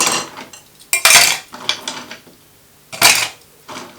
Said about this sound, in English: Going to pop some ice in it.